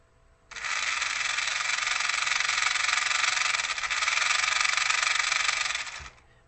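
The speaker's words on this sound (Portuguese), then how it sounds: "eu vou testar mais uma vez o motor e medir na corrente, tanto em velocidade baixa quanto em velocidade alta" The electric motor of a remote-control car runs at low speed. It gives a steady, close whirring hum that starts abruptly, holds for about five and a half seconds, and then cuts off.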